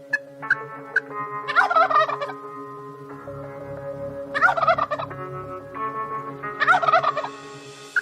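A young wild turkey jake gobbles close by near decoys, three loud rattling gobbles spaced a couple of seconds apart, with softer clucks and calls between them and no talking.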